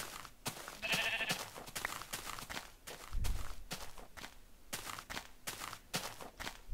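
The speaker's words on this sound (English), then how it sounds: "Brown sheep, hmm? How are you? Hello, you sheepy sheep." Sheep in the Minecraft video game, including a brown one, bleating faintly among a steady run of quick in-game footsteps; no voice is heard.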